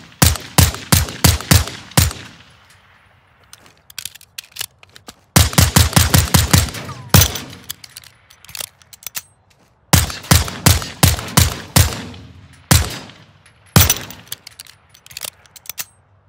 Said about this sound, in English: I will dump all the rounds, the mag rounds